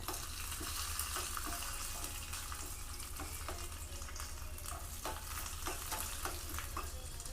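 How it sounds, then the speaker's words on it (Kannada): Dry red chillies and curry leaves crackle in hot oil for a North Karnataka chutney tempering: a dense, steady sizzle close by, studded with scattered sharp pops throughout, with no voices. "ನೋಡಿರಿ ಚಿಟಪಟ ಅನ್ಲಿಕ್ಕತ್ತಾವೆಲ್ಲ"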